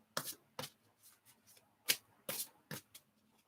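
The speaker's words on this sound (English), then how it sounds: "So I'm shuffling away whilst I'm waiting for the lovely Amy." Tarot cards being shuffled by hand, a series of sharp papery riffles and flicks in an irregular rhythm, close and fairly quiet with no voices.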